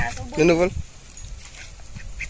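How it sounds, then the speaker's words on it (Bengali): A fluffy duck gives one loud, harmonic quack close by in the opening second, followed by quieter background noise and faint outdoor sounds. "এই দেখো ফদফদা হাঁসটি আমার"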